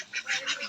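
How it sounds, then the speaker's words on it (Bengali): Ducks quack while eating their feed, a quick run of several short nasal quacks close by, with no talk. "বড় হাঁসগুলো খাওয়া শুরু করছে।"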